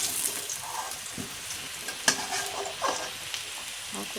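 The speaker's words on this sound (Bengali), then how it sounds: "খুব সুন্দর করে আলুটা ভাজা করে নিয়েছি" Potato pieces frying in hot oil in a pan, a soft continuous sizzle broken by occasional stirring scrapes and clinks, quiet and close.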